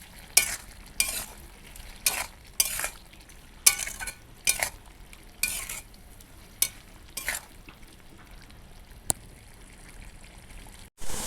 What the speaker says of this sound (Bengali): দিয়ে আবার ভালো করে নেড়ে চেড়ে দেবো।